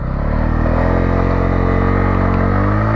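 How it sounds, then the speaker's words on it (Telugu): A Bajaj Pulsar N160 motorcycle with a 162cc single-cylinder fuel-injected engine runs steadily at close range, its loud engine drone holding even throughout with no talk. "బండిని పవర్ చేసేది 162cc single cylinder FI engine"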